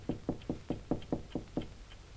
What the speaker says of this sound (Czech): Takhle neklepe nikdo zdejší.